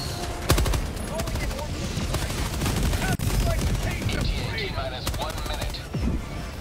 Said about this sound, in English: Oh, the sentry turret's going to work.